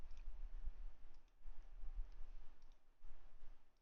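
Computer mouse clicks while setting up a Fluent simulation, a few faint sharp clicks, some in quick double pairs, against a quiet low room hum.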